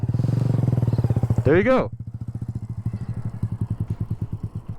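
Motorcycle engine idling and pulsing in a steady, close rhythm during a beginner riding lesson, with a brief rev midway, running under nearby talk.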